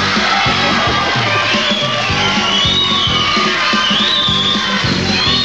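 A TV studio audience in Chile cheers, whoops and yells loudly and continuously, a dense close crowd roar with rhythmic stomping or clapping pulses underneath.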